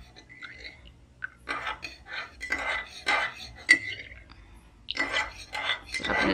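A spoon clinks and scrapes around a cup as bulletproof coffee is stirred, a close run of metallic taps and swirls in a quiet kitchen.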